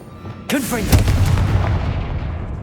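A Confringo fire spell explodes in the game Hogwarts Legacy during a troll fight, a sudden loud booming burst followed by a rumbling decay, right after a shouted voice.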